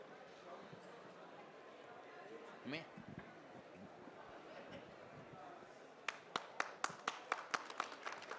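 Talk and room murmur give way to a run of distinct audience claps at a hospitality expo ceremony in Bengaluru, growing into scattered applause toward the end.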